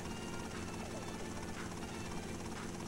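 A helicopter flies in Grand Theft Auto: Vice City Stories, its steady rotor thump and broad engine roar continuous and fairly faint throughout.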